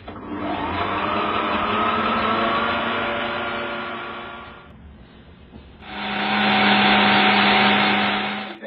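Electric mixer whisking meringue with sugar for Queen of Puddings, a loud steady whirring motor run that stops briefly and then starts again, close and alone.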